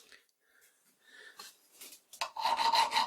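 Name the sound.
metal file test on hardened steel tractor part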